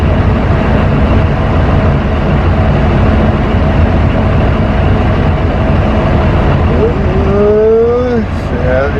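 A semi truck drags along a narrow farm driveway, giving a loud, continuous rumbling scrape with a brief squeal near the end.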